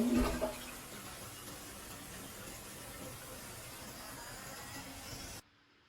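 Wall-mounted water-saving toilet in an apartment bathroom flushing, a loud initial gush settling into steady rushing water that cuts off abruptly near the end, close by with no talk.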